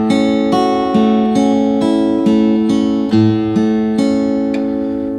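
Classical guitar playing Carcassi's A Major Study, a flowing arpeggio of plucked notes over sustained bass in an even repeating pattern, close, clear and fairly loud with no voices.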